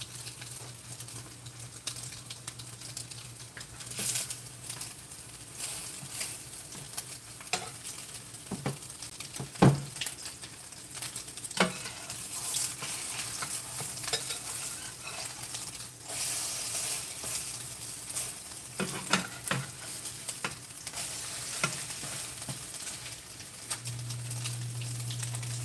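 Salmon croquettes fry in a pan with a steady soft patter and faint sizzle, punctuated by occasional sharper crackles and pops, close by with no talking.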